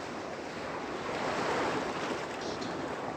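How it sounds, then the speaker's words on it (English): Ocean waves and surf washing steadily in an RPG Maker VX Ace game scene at sea aboard a ship, a continuous broadband rush of water with a faint wind-like hiss, moderately quiet and unbroken throughout. "Water sounds? Sounding good."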